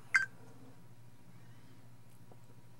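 A single short electronic beep comes from an Ansteker 4K Ultra-HD WiFi camcorder as its mode wheel is turned to the setup menu. It is close and crisp, followed by near-silence with a faint low hum.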